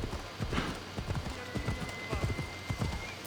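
Horse hooves clip-clopping in Assassin's Creed Odyssey, a brisk, steady rhythm of close hoofbeats, with someone talking over them.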